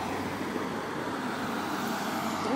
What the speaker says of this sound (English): It's a Porsche!